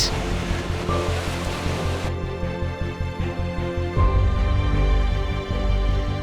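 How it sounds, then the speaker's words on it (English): Loud, continuous rushing water with a deep engine roar underneath, a jet boat powering through churning whitewater rapids on the Waikato River, New Zealand, steady and close throughout. "There is a much faster way to traverse the rapids, on board a jet boat"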